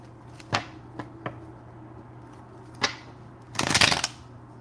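Love tarot cards shuffle in a few short riffles and taps, close and crisp, then a longer, louder burst of cards riffling together near the end, with a quiet room between the sounds.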